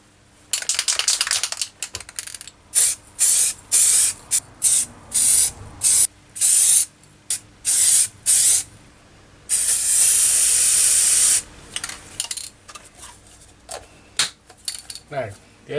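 Repeated bursts of spray hissing in short blasts in a spray booth while painting Triumph parts, then one long continuous spray, with faint clinks and rattles between bursts.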